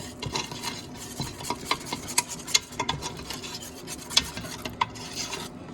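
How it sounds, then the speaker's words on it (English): A whisk works through a Mott's apple juice mixture for plug chewing tobacco, giving a continuous scraping stir with scattered light clinks against the bowl, close and moderately quiet. "Now, we're going to whisk this up. Stir it on up."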